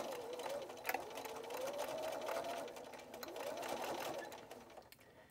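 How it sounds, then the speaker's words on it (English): A sewing machine stitches slowly around the corner of a fabric bowl cozy, a close, soft, steady whirring hum that speeds and slows, with a faint click partway through. "So stitch slowly around the corner, and if you have to, stop as you're going"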